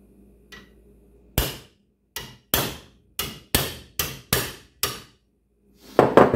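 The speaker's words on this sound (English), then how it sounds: "Wag it with a hammer." Hammer blows ring against a .450 Bushmaster rifle barrel, eight sharp, loud metallic strikes in an irregular rhythm, followed by a burst of clattering at the end.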